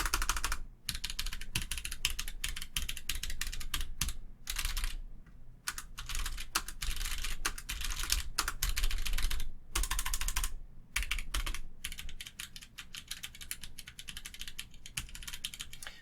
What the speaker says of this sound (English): Let's just go and click on the switches so you can hear the switches